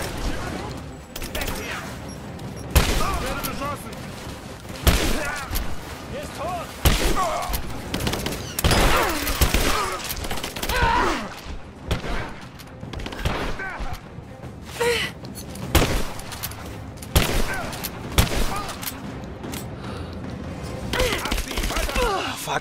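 Video game gunfire in Rise of the Tomb Raider crackles in repeated sharp bursts throughout a hectic fight, mixed with impacts and an excited voice talking over it.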